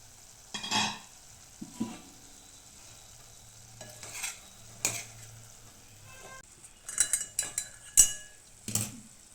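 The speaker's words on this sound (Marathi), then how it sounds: "ही भाजी आपण आता शिजवून घेऊ बघूया भाजी शिजली का" Karatule (spiny gourd) vegetable cooking in a pan and being stirred, with scattered scrapes and clinks of a utensil against the pan over a soft sizzle, in sparse bursts with quiet gaps between.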